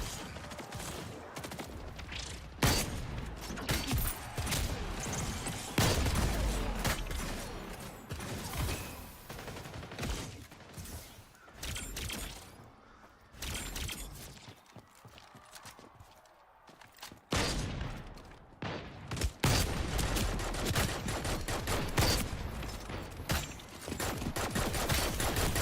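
Pistol gunfire in a video game: loud, rapid shots and bursts in quick succession, continuing almost nonstop with a quieter lull in the middle before the firing picks up again.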